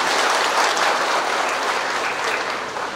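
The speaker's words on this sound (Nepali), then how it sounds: "जोडदार ताली" A crowd at a public felicitation event bursts into loud, sustained applause, dense clapping that holds steady throughout and tapers only slightly at the end, with no speech over it.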